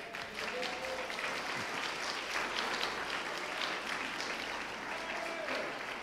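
Sustained applause from a church congregation honouring mothers during a service, a dense, even wash of clapping filling the whole stretch, with faint voices underneath.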